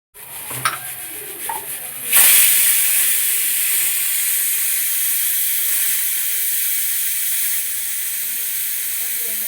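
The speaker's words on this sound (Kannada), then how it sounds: "ಕುಕ್ಕರ್ ಕ್ಯಾಪ್ ಹಾಕ್ತಾ ಇದ್ದೀನಿ ಎರಡು ಅಥವಾ ಮೂರು ವಿಜಿಲ್ ಸಾಕು" A pressure cooker on the stove cooking paneer pulao. A few light clinks come first, then a loud, sustained hiss of escaping steam begins and continues steadily to the end.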